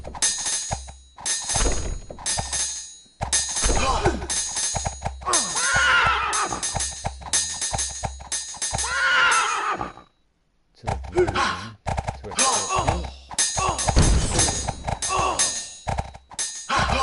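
Horse neighs and whinnies ring out twice in a video game, loud and close, set among clattering game sound effects with a brief silent gap near the end.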